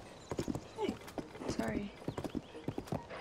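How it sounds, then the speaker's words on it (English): Horses clip-clopping in the video game Zelda: Tears of the Kingdom, a quick uneven patter of hoof clops close by, heard under a person talking. "Is that just a horse sitting there? Oh, there's horses."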